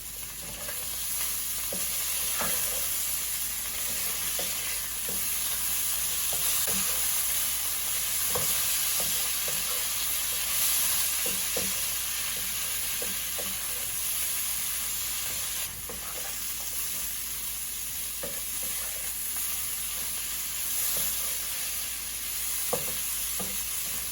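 Rice sizzles loudly and steadily in a hot pan for a long stretch, with scattered soft scrapes and taps as it is turned, and no voices.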